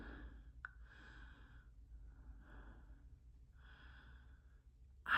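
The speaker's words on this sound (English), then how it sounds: "I'm breathing really heavy" Heavy, audible breaths come and go in a slow, repeating rhythm during a casual makeup session, close and fairly quiet, ending in a sharper, louder exhale or sigh.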